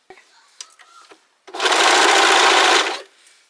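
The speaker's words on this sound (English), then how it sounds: "we're going to sew our side seams together" A sewing machine stitches the side seams of a Simplicity 3010 garment in one loud, steady run of about a second and a half, following a few soft handling clicks.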